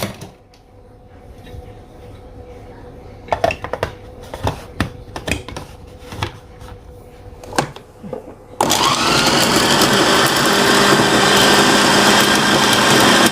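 A blender grinds chicken nugget dough smooth, starting abruptly partway through as a loud, steady whir that continues to the end, preceded by scattered clatters and knocks.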